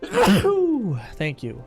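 A single sharp sneeze bursts out loud and close at the start, then a person speaks briefly.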